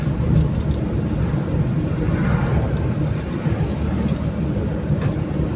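Airplane cabin roar, a steady loud low rumble without breaks, heard from inside the aircraft on a first flight.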